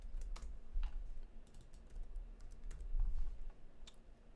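Keys clack on a computer keyboard in scattered, fairly quiet taps, with a few sharper presses standing out, as the R key is struck while drawing in Processing creative coding software.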